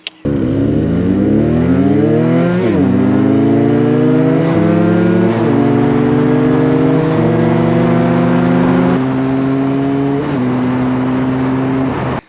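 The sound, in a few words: Benelli 302S motorcycle revving and accelerating through gears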